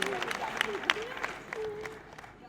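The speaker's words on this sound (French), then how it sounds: "Ce soir, on peut les applaudir à nouveau." Audience applause for award winners at the 2022 Loiret business trophies ceremony, a steady crowd clapping heard beneath a speaking voice.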